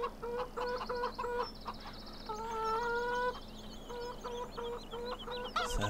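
Chickens cluck around the main farmhouse in the Orchard Farm farming game, a steady stream of repeated, fairly close clucks and calls throughout, with no talking.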